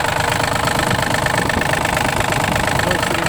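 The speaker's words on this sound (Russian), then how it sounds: "Трехцилиндровый трактор." A Yanmar RS270 tractor's three-cylinder diesel engine idles steadily and fairly loud, a continuous even rumble with a fine knocking texture and no talking over it.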